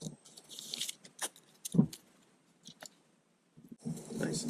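Aluminium foil being pressed and taped flat onto a work surface while preparing a coin sensor, giving brief crinkly rustles and tape clicks in quiet bursts with pauses between.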